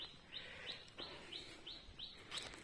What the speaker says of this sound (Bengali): আশেপাশে পাখিরা ডাকছে